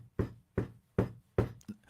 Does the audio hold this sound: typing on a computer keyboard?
no